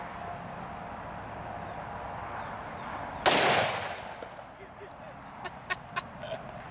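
.44 Magnum fired into a thick aluminum block: a single sharp, loud crack partway through, decaying quickly, followed by a few faint clicks and handling noises.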